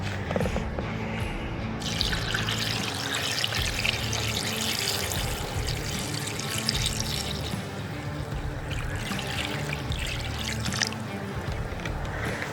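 Vinegar fizzes and bubbles over rocks in a steady, dense crackling hiss that runs continuously at close range with no talk.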